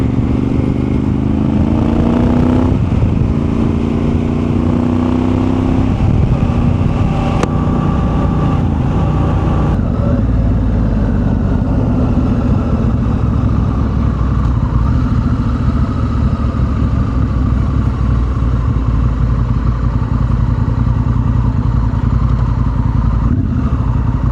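A 2024 Honda CRF1100 Africa Twin with a new exhaust rides close and loud, its engine climbing through gears before settling into a steady cruising rumble with wind noise.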